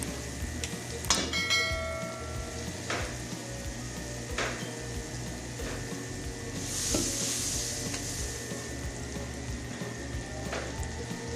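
Dairy cream frying with a little added oil in a hot pan, a continuous close sizzle with occasional utensil clinks and taps, swelling slightly louder midway, with no talking.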